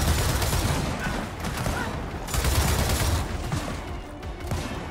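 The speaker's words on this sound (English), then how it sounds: "Somebody over here is shooting at me somewhere." Dense, sustained gunfire from the video game Gears of War 4, overlapping bursts and rattling shots filling the whole stretch with a loud, steady barrage and no voices.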